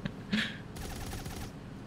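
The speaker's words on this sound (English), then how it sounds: "I imbued the machine gun." Rapid machine gun fire in the Friends vs Friends video game comes as a short rattling burst of evenly spaced shots, lasting under a second and fairly close.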